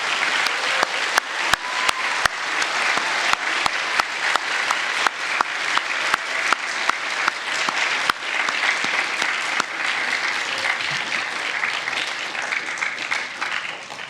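A school end-of-year awards day audience applauds student honorees with steady, dense clapping sustained for the whole stretch, a few sharper claps standing out near the front.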